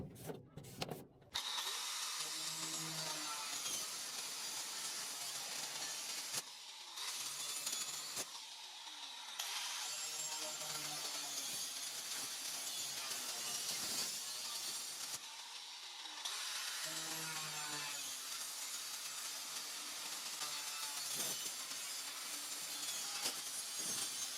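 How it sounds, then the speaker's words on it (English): Reciprocating saw cutting a hole through the metal wall of a shed, loud sustained buzzing strokes in several long bursts separated by brief pauses. "Cut the hole using a sawzall."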